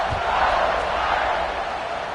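Stadium crowd noise from a college football video game, a dense, steady roar filling the scene with no distinct voices standing out.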